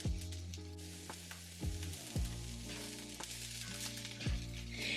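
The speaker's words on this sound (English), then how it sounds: "add in my sliced bell peppers and let that saute for probably about a minute" Sliced bell peppers sizzle loudly in a hot skillet, a constant crackling fry punctuated by occasional clinks and scrapes of a utensil.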